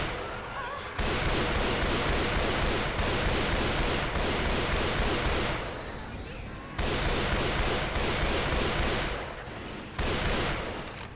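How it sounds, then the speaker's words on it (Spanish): Sustained bursts of rapid gunfire from Left 4 Dead 2, dense and loud, broken by a few short pauses, with players' voices faintly mixed in. "Escuché muchos tiros"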